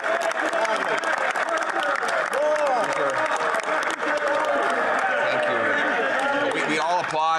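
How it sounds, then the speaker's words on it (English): Sustained applause and desk-thumping fill the House of Commons, a dense, steady clatter from a large chamber with voices mixed in throughout. "Applaud the NDP leader."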